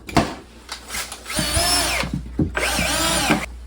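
A power drill whines in two long bursts as it drives a 2.5-inch screw into a wooden floor, with short starts and pauses between, close and fairly loud.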